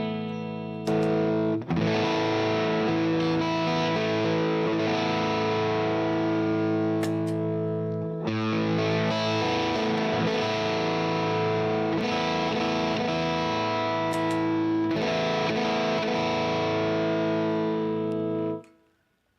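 An electric guitar runs through a Wildwood or standard Mjolnir overdrive pedal, playing sustained, driven chords that ring out with a brief break, then fade at the end, loud and close with no talking.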